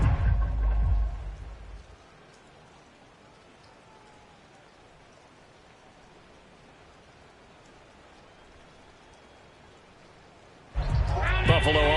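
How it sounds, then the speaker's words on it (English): Steady rain hisses through a football video game matchup between the Raiders and Bills, a soft even wash that runs alone through the middle, with louder, busier game sound swelling at the start and again near the end. "The rain set to continue as we are underway in the second half."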